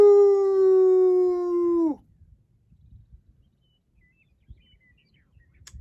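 A single long, smooth howl at night, held level for nearly two seconds before sliding down and cutting off, followed by faint rustling and footsteps.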